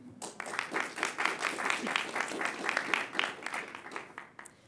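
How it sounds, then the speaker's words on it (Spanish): Applause from an audience at a PyCon 2019 talk in Colombia, dense steady clapping for several seconds that fades toward the end. "Un aplauso para ella"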